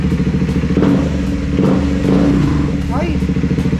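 A Triumph Speed 400 motorcycle engine fitted with a DNA high-performance air filter, revving loud and close with a rough, pulsing throb that rises and falls, while a person talks over it.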